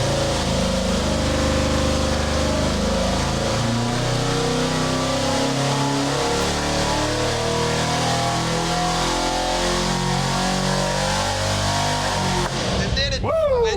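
Twin big-block engines coupled together on a dyno roar loudly and continuously, their droning harmonics shifting as they rev, until a sudden drop near the end.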